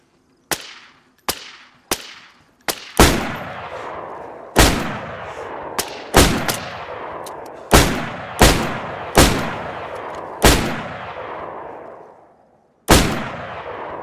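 Gunshots in the video game DayZ on its Deadfall map: a string of sharp, loud single shots, several close together at first and then spaced apart, each trailing off in a long echoing tail, with no talking.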